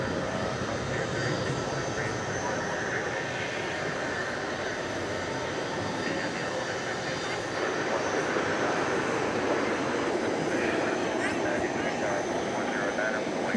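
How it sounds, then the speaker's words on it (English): A Delta Airbus A319 jet arriving at DFW at night, inbound from Salt Lake City, makes a steady, moderately loud engine rumble and whine that swells slightly toward the end, with voices talking over it. "Here comes a Delta Airbus A220. No, Airbus A319, sorry."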